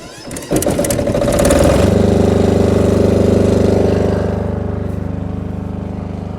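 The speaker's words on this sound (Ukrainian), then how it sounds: "Зараз заведу генератора." A generator engine cranks with a few rapid rattling pulls, catches, and settles into a loud, steady idle hum close by, easing slightly in level toward the end.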